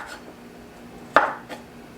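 A knife strikes asparagus on a cutting board, one sharp chop followed by a softer second chop, close and quiet in an otherwise hushed kitchen.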